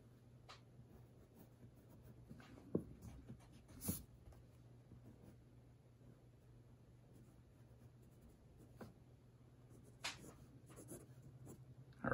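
Pencil drawing a caricature head on paper, a faint continuous scratching with occasional light taps and strokes over a low steady hum, no voices.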